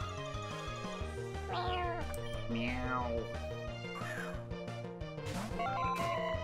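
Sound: cat Pokémon cry in the video game Pokémon Uranium

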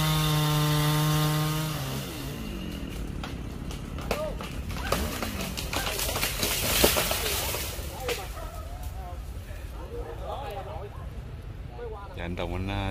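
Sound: sawing a tree

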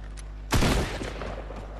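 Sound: combat shotgun firing in a video game

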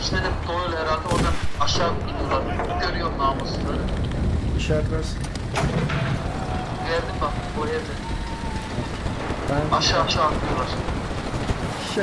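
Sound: gunfire from a WWII rifle in the video game Enlisted

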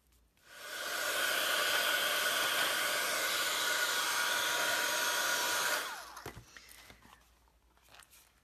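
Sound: drying paint and rust on a box, likely a heat tool

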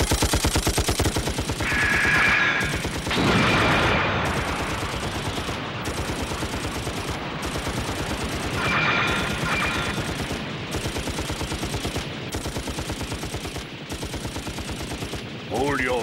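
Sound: gunfire in an anime attack scene

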